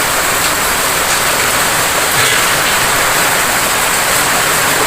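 Heavy monsoon-style rain pours during a thunderstorm with lightning, a dense, steady hiss filling the whole stretch at close range with no voices over it.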